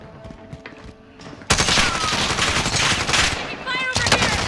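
Dense automatic gunfire from a light machine gun and assault rifles in a shooter video game, starting abruptly and continuing loud and steady, with weapon handling sounds between bursts.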